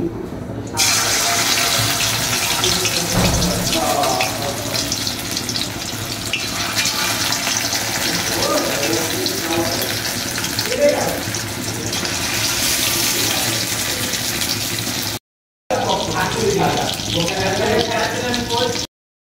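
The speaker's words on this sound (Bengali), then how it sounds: "আমি কড়াইয়ের তেলটাও গরম করে নিয়েছি এবং মুরগিগুলো একটা একটা করে দিয়ে দিব।" Chicken pieces fry in hot oil in a wok, a loud, steady sizzle running through nearly the whole stretch with one brief break near the end.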